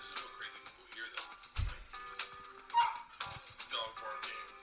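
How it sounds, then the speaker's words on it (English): A dog yips, barks and whimpers in short scattered bursts amid household chaos, moderately close and unaccompanied by clear speech. "Dog barking"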